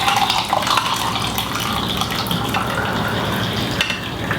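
Freshly brewed hot pour-over coffee streams into a double-wall Tupkee glass tumbler in a steady, continuous pour with a bright splashing trickle that holds at the same level without talk.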